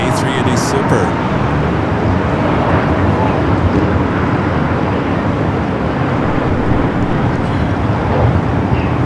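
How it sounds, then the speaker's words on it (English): An Airbus A380 jet bound for Munich taking off on the north side at LAX, a loud continuous broadband engine roar filling the whole stretch, with talk in the background. "Flight 453 heading back to Munich, the A380 Super."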